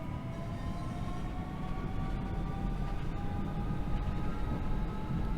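A Southeastern Class 465 electric train in Train Sim World 3 pulls away from Gillingham with a steady low rumble and rising whining motor tones, heard continuously from on board.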